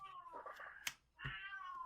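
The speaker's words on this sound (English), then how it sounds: "I hear a kitty." A house cat meows twice nearby, each a drawn-out, tonal cry, the pair split by a brief knock in the middle, moderately loud over a quiet room.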